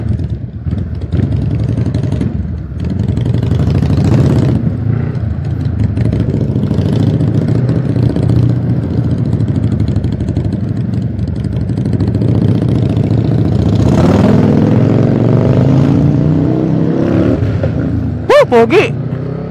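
A motorcycle engine drones loudly and continuously while riding, swelling into a rising rev partway through, with a voice talking over the noise.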